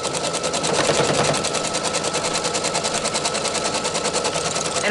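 An embroidery machine stitches pink thread into a quilt table topper, a fast, steady, close mechanical rattle of the needle running on without a break.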